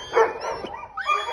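A rescued dog giving small whimpering yips and barks, close by and fairly loud, several short bursts in quick succession with no talk.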